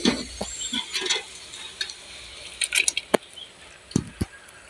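A utensil stirring sago flour into liquid to dissolve it, giving close, irregular scraping and swishing strokes with a few sharp clinks against the container.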